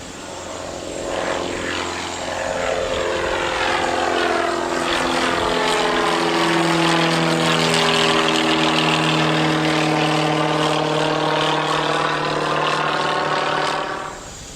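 A Hurricane Hunter propeller plane takes off on a runway at Isla Grande, Puerto Rico, its engines swelling into a loud sustained roar with a pitch that sweeps and shifts as it passes, then fades slightly at the end.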